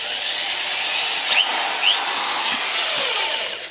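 A J.LD electric drill runs at a steady high-pitched whir for a few seconds, close and loud, with slight pitch shifts and no talk over it.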